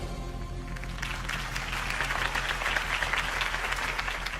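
Crowd applause for a Harvey Dent mayoral campaign speech, a dense, steady wash of many clapping hands that swells after the first second and holds loud and sustained.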